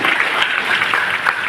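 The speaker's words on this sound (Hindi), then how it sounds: "एक बार उनको नाम से ताली हो जाना चाहिए।" A gathered audience applauds Ranjan Kumar Gupta with a brief, loud, continuous burst of clapping, dense and close, with no speech over it.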